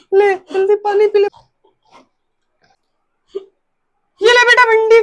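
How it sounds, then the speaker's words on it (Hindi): Hiccups in a comedic household scene: a few short voiced hiccup-like squeaks come in quick succession, then a lone soft catch, then a longer vocal burst, with quiet gaps between. "अरे सब कुछ आया करे लेकिन इसके हिचकी ना आया करे"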